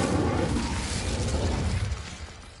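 An Incendio fire spell is cast in the Hogwarts Legacy video game, a dense burst of whooshing, crackling noise that starts loud and close, then fades over a couple of seconds, with no talking.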